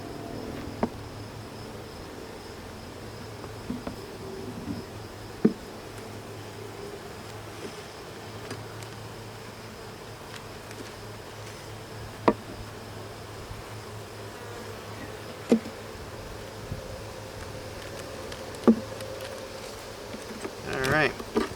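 A steady, low buzz of honey bees on hive frames hums throughout, with occasional brief clicks and knocks rising above the drone.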